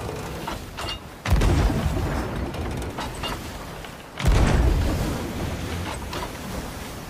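Two heavy booming blasts of ship cannon fire in Sea of Thieves, a few seconds apart, each followed by a rumbling decay, loud and close with no talking.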